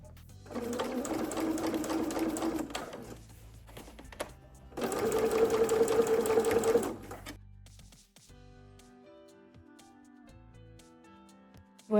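Sewing machine stitching a child's school satchel close to the fold, two steady bursts of rapid, even stitching separated by a short pause, then quieter light clicks and handling sounds.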